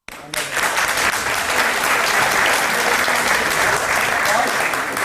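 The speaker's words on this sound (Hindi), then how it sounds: "उनके प्रश्न पर आप ताली क्यों बजा रहे हो?" An audience bursts into loud, dense applause that starts abruptly and holds steady and close at full strength, with voices mixed into the clapping.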